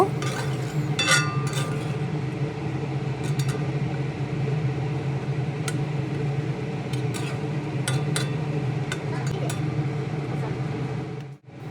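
Cabbage, potato and hilsa fish head stirred in a pan, with scattered light metallic clinks of a utensil against the pan over a steady low kitchen hum throughout.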